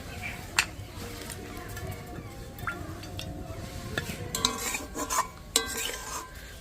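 Milk with saffron reducing in a pan while a spoon stirs it, with soft repeated scrapes and clinks close by over a faint simmering hiss.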